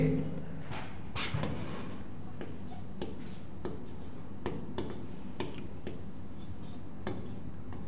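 Short scratchy strokes of writing on a board repeat in an uneven rhythm, close and moderately loud, with a soft voice murmuring in between.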